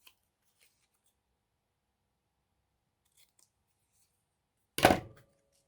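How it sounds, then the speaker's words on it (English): Scissors snip once through paper for a handmade Christmas card, a single crisp cut close by after several seconds of near silence. "I'm going to just cut this down a little bit more."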